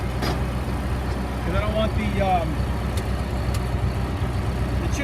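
Tractor engine rumbling steadily up close while driving with a wood chipper lifted on its hitch and disconnected from the PTO, with someone talking over it.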